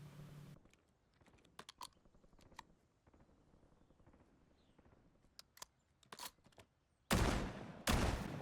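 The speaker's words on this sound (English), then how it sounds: "here's the inspect animation without being cut off" A weapon inspect animation in a video game plays as a sequence of sharp mechanical clicks and rattles, followed by two loud bursts near the end over faint background quiet.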